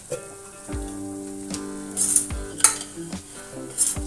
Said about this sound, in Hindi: हमने जो मूंगफली डाली है उसमें से तेल अलग होने लगे तब तक हमें इसको भून लेना है।